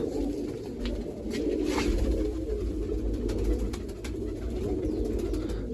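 Sar-far pigeons settling in and cooing: a steady, low, throaty murmur of several birds at close range, continuing without a break and with no voices.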